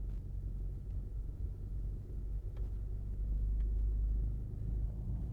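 A car slowly reverses through a plaza in Savlamar, Jamaica, giving a steady low engine rumble from inside the vehicle that swells slightly partway through, with a few faint clicks and no talking.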